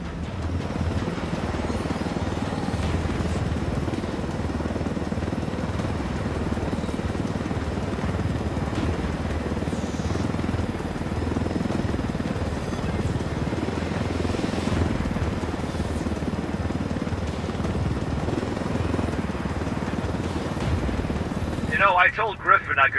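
Helicopter rotor and engine drone from the video game Ghost Recon Wildlands, a steady loud low thrum running throughout with voices talking over it.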